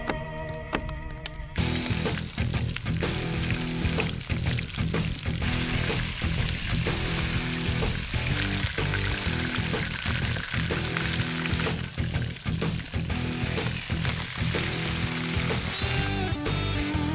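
Onion, garlic and chili pepper sautéing in a pot, a steady dense sizzle and crackle throughout, with a brief different sound at the very start and no talking.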